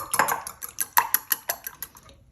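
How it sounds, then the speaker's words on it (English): Whisk or fork beating three eggs in a bowl, a quick run of about a dozen light clicking taps against the bowl's sides, close and alone. "Now we're going to beat 3 eggs."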